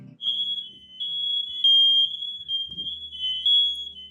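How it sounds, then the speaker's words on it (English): Smoke alarm going off during cooking: a steady, piercing electronic beep tone sounds continuously and loudly, with faint low clattering kitchen noises underneath. "That pesky smoke alarm is at it again."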